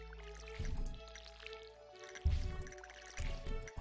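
Water splashes from a watering can onto crops in Stardew Valley, three short wet bursts spaced apart over soft background game music.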